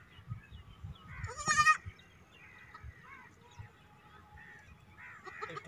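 A goat, sold at a livestock market, lets out one loud, wavering bleat amid a busy outdoor crowd, with fainter animal calls and background chatter around it.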